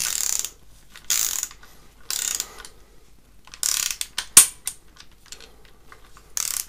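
Ratchet tightening the timing cover bolts on a BMW M50B30 engine: several short bursts of rapid, crisp clicking, close and fairly loud, separated by quiet pauses, with no talking.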